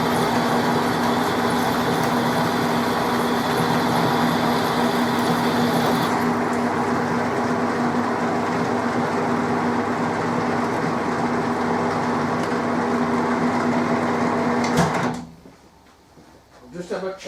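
A steady machine whine with a constant hum runs continuously as an undersized drill bores out the middle of a metal part, then cuts off abruptly near the end, followed by quieter handling noise.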